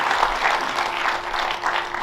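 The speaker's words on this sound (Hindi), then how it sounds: "एक बार फिर से जोरदार तालियों से स्वागत कीजिए संतोष भैया" A crowd at a Pune mushaira and kavi sammelan claps steadily and densely to welcome a poet onto the stage, a continuous wash of many hands at even loudness with no talk over it.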